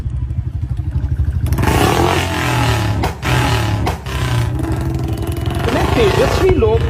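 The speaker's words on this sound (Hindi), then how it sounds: "इसने अपने मोटरसाइकिल के सिलेंसर के साथ पाइप लगा दिया और ये मोटरसाइकिल इसका अजीब ही आवाज निकाल" A motorcycle with a pipe attached to its silencer gives off a loud, strange droning engine noise with rough pulsing, cutting out briefly twice; voices are heard over it near the end.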